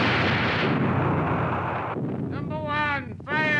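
Artillery shells firing and exploding at the Khe Sanh Marine base make a long, loud, rumbling roar. Then the noise drops and someone shouts over the fading din.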